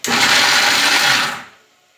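A mixer grinder blends tomatoes in one loud, steady whirring burst of about a second and a half, then the motor quickly winds down to silence.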